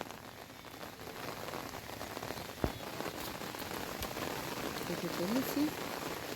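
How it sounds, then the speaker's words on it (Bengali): Rain falling on a garden, a steady broadband patter of drops with occasional louder splashes, continuous throughout at moderate level with faint voices in the background. "বৃষ্টি এসেই গেল"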